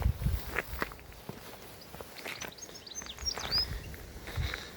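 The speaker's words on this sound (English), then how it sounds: "And birds singing sound ever so lovely" Faint bird chirps and short tweets sound in the distance over quiet backyard ambience, with occasional footsteps nearby.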